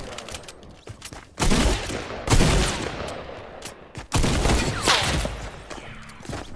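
Gunfire in the Fortnite video game, several loud sharp shots and booming blasts with echoing tails, separated by short pauses.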